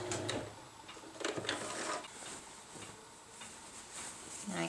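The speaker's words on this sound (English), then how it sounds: "Just doing a straight seam very close to the edge here, just to keep that lining closed off." A sewing machine runs a straight seam along the edge of a fabric bread bag lining, with quiet, steady mechanical whirring and light ticking heard close up in short bursts.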